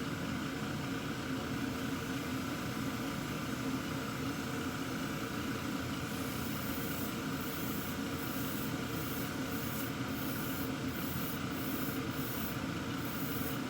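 A spray can sprays onto styrofoam with a steady hissing spray throughout, with a series of short, regular sputtering bursts in the second half, loud and close with no talking.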